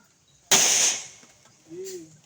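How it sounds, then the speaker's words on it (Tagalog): A single sharp gunshot at a shooting range cracks out nearby and dies away in a short reverberant tail. A faint, brief vocal sound follows. "Full firing."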